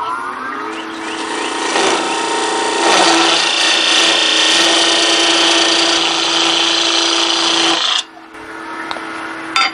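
A small wooden bowl blank turns on a lathe while a tool cuts into it, giving a loud steady whirring drone with a sustained tone that stops abruptly near the end.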